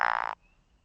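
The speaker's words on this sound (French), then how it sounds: "On dirait une grenouille qui a mal au ventre." A frog's underwater call plays back as a single buzzy, rasping croak lasting about a third of a second, loud and close, then cutting off into near silence.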